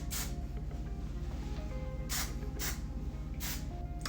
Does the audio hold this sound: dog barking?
no